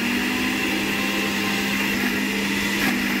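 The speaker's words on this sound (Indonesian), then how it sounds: "halusin di blender" An electric blender whirs steadily at high speed, puréeing chili peppers with about three tablespoons of water, a constant loud motor drone with no pauses and no voices.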